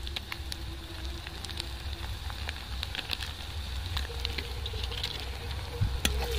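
Ground coriander, turmeric and chilli powder fry in a pan with ginger and garlic for an egg curry, giving a steady low sizzle with soft scattered crackles and light stirring taps throughout.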